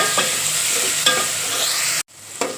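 Asafoetida, ginger and garlic paste sizzle steadily in a hot pan, a loud close frying hiss broken by stirring scrapes, with a brief drop to near silence before the crackle returns.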